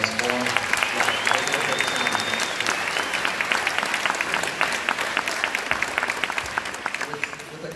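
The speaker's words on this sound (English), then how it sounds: "can we please give one more round of applause to our student readers?" A school audience at a high school spring choir concert claps steadily for student readers, a dense, loud round of applause that holds for several seconds and tapers slightly toward the end.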